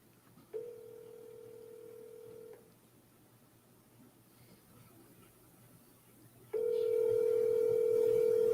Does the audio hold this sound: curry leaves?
no